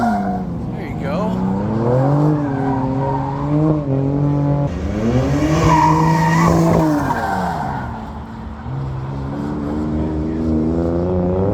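Dodge cars on thrill rides at a Barrett-Jackson fall auction display squeal their tires and rev loudly, with sweeping engine pitch rising and falling throughout, while people talk nearby.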